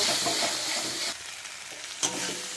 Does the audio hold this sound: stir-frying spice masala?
yes